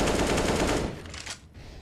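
Rapid pistol fire in a Counter-Strike: Global Offensive pro match, a dense burst of close, loud shots that thins into a few scattered cracks, with no talking over it.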